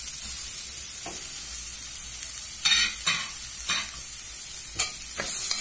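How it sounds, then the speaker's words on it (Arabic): Carrots being stirred in a pot while cooking chicken soup, with sizzling under a few soft scraping strokes from the spoon spaced across the clip, no talk. "وهقلب كله مع بعض"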